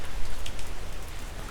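Heavy typhoon rain pours steadily onto a back garden, a dense, close, unbroken hiss of drops hitting surfaces with no voices.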